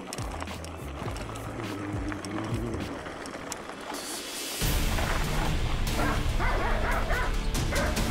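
Dogs bark and yip along a bicycle tour route, a few sharp barks and whimpers over rolling road and wind noise that grows louder in the second half.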